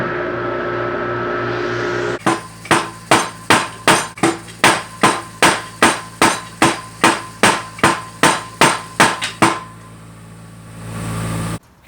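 Hot round stock gets forged under a blacksmith's power hammer in a rapid, even series of about twenty loud metallic blows. The hits are close and cut off abruptly, with a roaring hum before and after.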